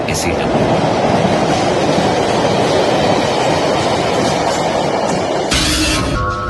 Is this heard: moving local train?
yes